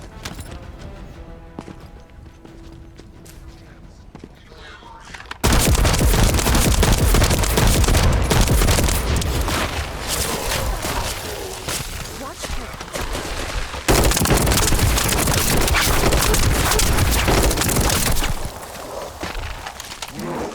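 Rapid sniper rifle fire from The First Descendant on PS5, quiet at first and then sustained dense loud volleys that run almost continuously with one brief break, with a voice speaking in places.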